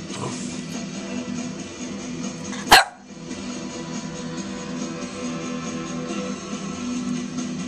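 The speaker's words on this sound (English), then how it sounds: "What are you barking about?" A single sharp dog bark rings out close by, one brief loud burst against a quiet, steady background hum.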